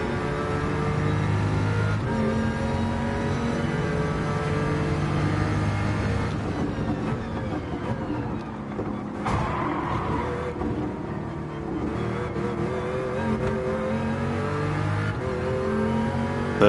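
A race car engine in a video game revs and drones continuously, rising and falling in pitch as it accelerates and shifts, loud and close throughout with no pauses.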